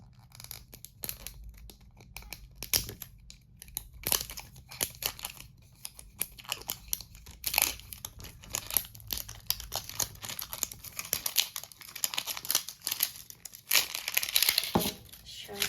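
Barbie color-reveal surprise egg being unwrapped, with crinkly packaging rustling and tearing in repeated bursts close up while a person talks intermittently.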